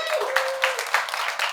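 Audience at a Gaslight Comedy show in Pittsburgh claps steadily through the whole moment, a dense broadband patter with a few sharper peaks, while a voice carries on over it.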